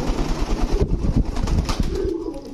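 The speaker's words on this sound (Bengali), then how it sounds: "এই হচ্ছে রেসার কবুতর।" Racer pigeons of Kittel bloodline coo at a market stall, several soft throaty calls close by, with brief rustling and no speech.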